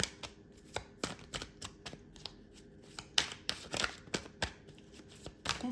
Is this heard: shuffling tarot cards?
yes